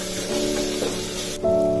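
Soft, steady sizzle of vegetables and tomatoes sautéing in a pan for vegetable biryani, a continuous crackling hiss with a faint tonal hum in the background.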